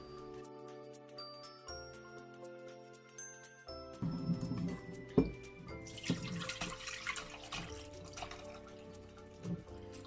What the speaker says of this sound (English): Now I'm going to strain my sorrel.